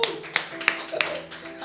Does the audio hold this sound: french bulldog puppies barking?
no